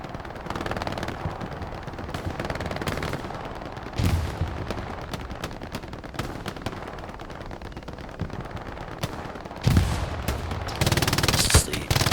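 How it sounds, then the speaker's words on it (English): MG42 machine gun bursts in a Hell Let Loose match, rapid sustained fire rattling through the whole stretch with scattered heavier shots and louder close bursts near the end. "MG42 blaring there."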